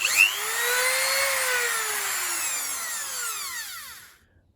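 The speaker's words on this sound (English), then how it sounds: "in order to clean the spark plug, I'm gonna use some sandpaper attached to my Dremel tool" A Dremel rotary tool fitted with sandpaper cleans a spark plug from a 2014 Opel Corsa D 1.4, a loud, steady high whine whose pitch slides down and back up as it loads, then cuts off near the end.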